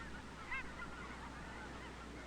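Snow geese honk faintly in the distance through a steady, noisy hiss in an outdoor field. One brief call stands out, followed by softer scattered honks.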